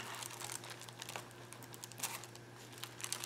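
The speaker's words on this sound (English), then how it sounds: "Put your foil on top of your backing." Foil sheet crinkles as it is laid onto an adhesive-coated backing for craft artwork, making soft, continuous rustling with scattered crisp crackles, close and fairly quiet.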